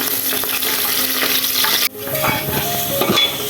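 Chopped onions sizzle and crackle in a pan while beef is cooked, with steady frying hiss and scraping stirs; a brief dip in the middle, then the sizzle returns with clinks of utensils.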